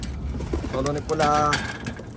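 Racing pigeons cooing close by in soft, throaty murmurs that overlap against a steady background hum.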